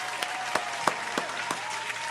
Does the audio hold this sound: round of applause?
yes